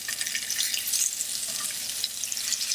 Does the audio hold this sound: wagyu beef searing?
yes